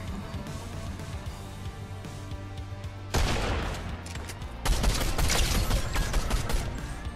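Rapid gunfire bursts in the Fortnite video game, loud and sustained, with a second heavier volley starting partway through and continuing to the end, no talk over it.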